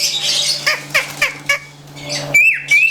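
A green leafbird (cucak ijo) calls loudly at close range: a series of sharp, harsh squawks followed by bright, sweeping whistled notes, with no speech.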